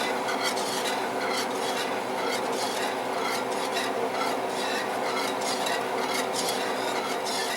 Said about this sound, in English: Now as you stir it, it starts thickening up as it simmers.